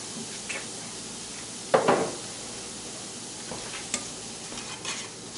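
Onions fry in a pan with a steady low sizzle, broken by one short, louder scrape and hiss of stirring, then a few faint clicks of the utensil; there is no talking.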